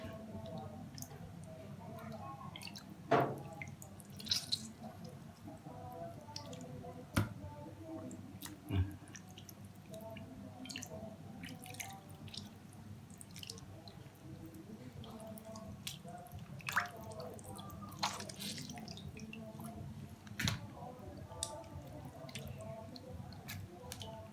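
Fish being washed by hand in water to clear blood and slime, with quiet drips, wet squishes and occasional sharp taps spread through a soft background, and some speech at times.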